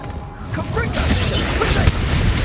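A Confringo fire spell bursts in the wizarding game Hogwarts Legacy, a couple of fiery booms and crackling impacts in quick succession amid combat noise, with a voice speaking in places.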